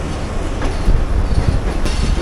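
Railway coaches roll through a yard as a rake is made up for the Karachi Express, a loud, close rumble of wheels with faint clatter from the rails.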